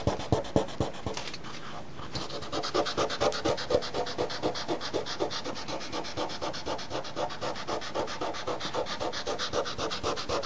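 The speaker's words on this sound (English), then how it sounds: "that attachment too, just to cut the resin down a bit more" A power sander grinds resin on a surfboard in continuous close rubbing with a rapid pulsing rhythm, loud and steady throughout with no voices.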